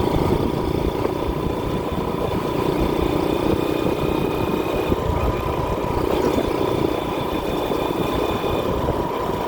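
A TMX Supremo motorcycle engine humming steadily during a night ride, a continuous close drone with constant wind rush and no breaks.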